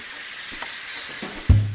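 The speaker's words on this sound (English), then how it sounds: "take this valve and turn it over to venting and stay out of the way of the steam" Steam hisses steadily from an Instant Pot pressure valve turned to venting while shredded beef chili cooks, a loud continuous rush with a few soft clicks and a brief thump near the end.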